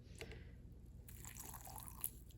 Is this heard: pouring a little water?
yes